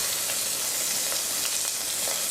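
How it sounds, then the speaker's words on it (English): Finely chopped garlic and onions sizzle in a hot pan with cinnamon, a loud, unbroken hiss close by with faint soft stirring underneath and no talking. "we'll add the finely chopped garlic and just the onions"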